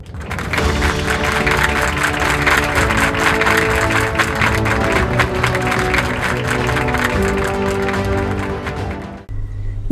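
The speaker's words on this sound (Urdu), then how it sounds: "آپ سب کی بھرپور تالیوں میں استقبال کیجیے یسریٰ وسیم۔" An audience at a declamation contest grand finale applauds to welcome a contestant, loud sustained clapping mixed with background music, ending abruptly near the close.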